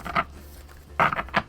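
Tarot cards being shuffled by hand, heard as a few short, papery riffling bursts: one brief flutter, then a quick cluster of three near the end, close and fairly quiet with no talking.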